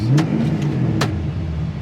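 A 1969 Pontiac Firebird 400 restomod with a dual exhaust idles with a deep, burbling rumble, and two short throttle blips rise above it, close and alone.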